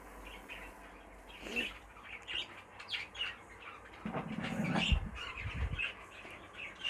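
Caged breeding birds in a bird shed give repeated squawks, chirps and calls at moderate distance, with some wing flapping and rustling.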